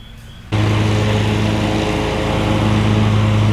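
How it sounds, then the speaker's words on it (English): Lawn mower starting up close by at about half a second, then running steadily and loudly with a constant engine drone, no talk. "Mowing the lawn. Right when I want to shoot a video."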